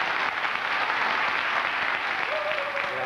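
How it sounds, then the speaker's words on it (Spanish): A theater audience applauds continuously, with dense, even clapping throughout and a brief voice near the end. "Así que, Vergara, te mando un abrazo grande y un aplauso grande de todo el público que está acá."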